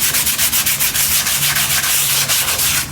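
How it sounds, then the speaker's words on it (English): Sandpaper being rubbed quickly back and forth across a primed canvas surface being prepared for painting, making loud, close, rhythmic scratchy strokes about four per second, with no talking. "I will quickly sand the surface."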